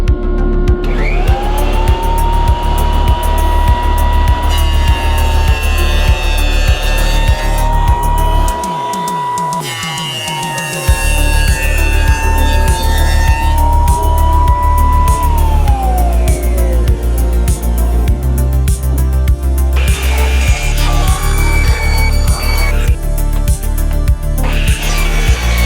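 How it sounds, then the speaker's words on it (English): A woodworking jointer squares the bottom edge of a wood piece, giving a loud, steady motorized whine with shifting tones and rhythmic cutting passes, then winding down near the end. "I'm gonna run the bottom here across the jointer,"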